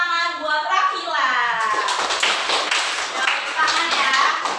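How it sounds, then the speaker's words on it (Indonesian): Applause in a classroom during a teacher training session, many hands clapping in a steady dense patter for several seconds, with children's voices and a speaking voice over it. "Tepuk tangan ya."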